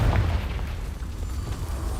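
A Confringo spell explosion in Hogwarts Legacy gives a deep booming blast with a low rumbling tail, loud and close, fading steadily over two seconds.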